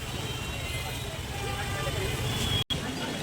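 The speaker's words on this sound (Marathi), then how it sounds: "आणि इकडे बघा कच्ची ट्रॅफिक लागली आहे बघा ट्रॅफिक जाम झाली आहे इकडे" Traffic jam on a road near a market: a steady close rumble of idling and creeping cars and buses with crowd murmur, under someone talking, with a brief dropout near the end.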